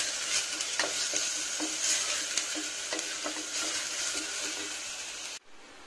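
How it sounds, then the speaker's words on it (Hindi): Masala paste fried in oil and stirred in a pan while making rajma, a constant close sizzle broken by repeated scraping strokes of the spoon, cutting off abruptly near the end. "मसाले से जब तक ऑयल सेपरेट नहीं हो जाए तब तक मैं भूनूंगी इसको।"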